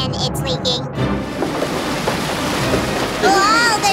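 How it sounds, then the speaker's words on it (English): Cartoon ship sinking and leaking after engine failure, with water sloshing and splashing under wind and wave noise, beeps at the start, and a character speaking over it. "My ship is sinking out!"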